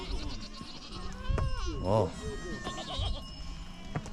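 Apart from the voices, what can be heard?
goats bleating in a herd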